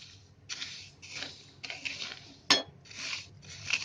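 Rice grains roasting in a hot pan are stirred with a utensil, giving a series of dry scraping, rustling sweeps in a steady rhythm, close up, with one sharp clink of metal partway through.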